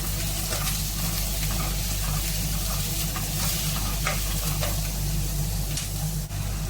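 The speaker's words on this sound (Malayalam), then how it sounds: "നമുക്ക് സവാള നന്നായിട്ട് ഇളക്കി കൊടുക്കാം" Onions frying in oil in a hot pan while being stirred, a continuous dense sizzle with a low steady hum underneath and a few brief scraping knocks, no voices.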